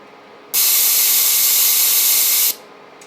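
Violet noise test signal: a sharp, very treble-heavy hiss sounds loud and steady for about two seconds, then cuts off, with quiet before and after.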